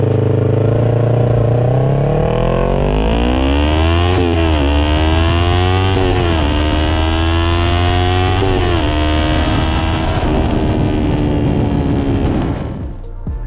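A Yamaha R3 motorcycle with an upgraded exhaust idles loudly, then revs and climbs through rising engine pitch in repeated surges, a close, raspy drone throughout.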